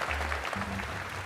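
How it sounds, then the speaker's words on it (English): Brief applause from the crowd at a Gran Turismo World Series esports event in London, a short burst of clapping mixed with low background hum. "Let's give a big round of applause to Takuma Miyazono!"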